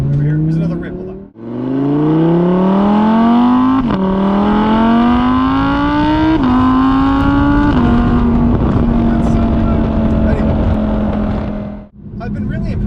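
An Audi R8 V10 Performance engine screams through a long rising rev in stepped gear-like surges, then holds a high steady drone before dropping off, loud and close.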